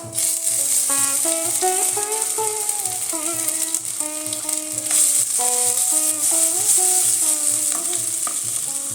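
Panch phoron spices and freshly grated ginger sizzle steadily in hot oil, a continuous close frying hiss under a musical background, with occasional scraping stirs of a spatula in the pan.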